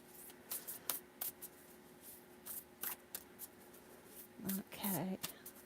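Tarot cards are shuffled close up in quick riffling bursts, soft papery flutters that come and go in irregular clusters, with a quiet voice murmuring briefly near the end.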